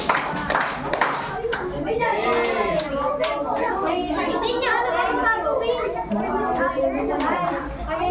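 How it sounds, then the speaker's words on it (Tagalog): Children in a PE class clap together in rhythm, a few sharp claps at the start followed by lively, overlapping children's voices and chatter filling the room. "bigyan natin ng tatlong palakpak ang group 3"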